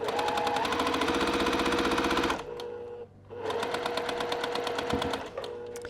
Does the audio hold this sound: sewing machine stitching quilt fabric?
yes